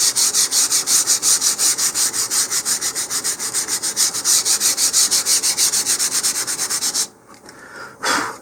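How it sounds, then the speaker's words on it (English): Rhythmic back-and-forth rubbing of 150-grit sandpaper on wooden model rocket parts, steady fast strokes close up for about seven seconds, then stopping with a brief final scrape. "now I'm going to give them a brief sanding with 150 grit just on the top here"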